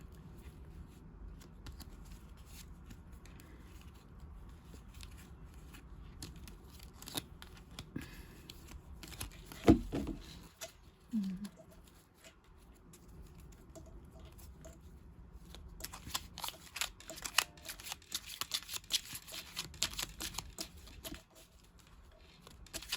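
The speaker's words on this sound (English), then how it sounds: "Get a good shuffle on. Get a good distribution of the cards." A deck of tarot and oracle cards is shuffled up close, soft riffling and patting bursts coming in uneven runs, quiet at first and then growing busier and denser toward the end.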